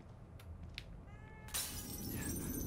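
A cat's meow in the horror video game The Evil Within 2, heard as a couple of short, faint cries over a low ambient game drone, followed by a sudden brighter crash of noise.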